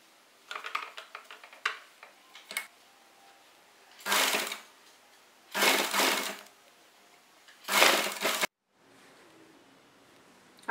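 A sewing machine stitches fabric for a kurta-palazzo set in short whirring bursts of about a second each, separated by pauses, with some quiet clicks and handling of the cloth before the first run.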